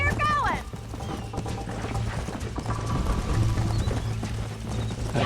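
A horse runs in the Red Dead Redemption video game, its hooves clip-clopping in a steady fast rhythm under game music and someone speaking over it.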